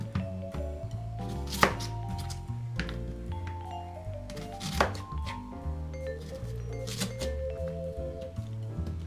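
A knife chops onions on a cutting board in irregular, close thunks with a few sharper knocks, moderately quiet with no talk.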